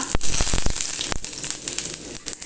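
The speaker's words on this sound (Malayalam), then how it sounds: "ആ ഉലുവയും ഒന്ന് മൂത്തതിന് ശേഷം നമുക്ക് കുറച്ച് വറ്റൽമുളക് ഇട്ട് കൊടുക്കാം" Fenugreek seeds and dried red chilies sizzle in hot oil, a close, bright hiss broken by sharp crackling pops, loudest at the start and settling into a steady fry.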